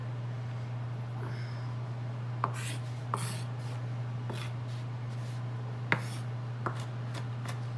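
A knife chopping garlic scapes on a cutting board in a home kitchen: a handful of sharp, separate cuts spaced irregularly over a quiet background with a low steady hum.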